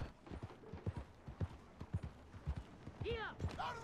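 Horse hooves clop at a steady walking pace in the video game Red Dead Redemption 2, soft and regular, with someone talking over them and a brief whinny-like rising call near the end.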